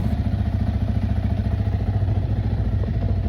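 A Yamaha Sniper 155 fuel-injected motorcycle engine idles close by with a steady, even, mid-pitched putter and light mechanical clatter and whir.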